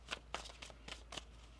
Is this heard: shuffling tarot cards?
yes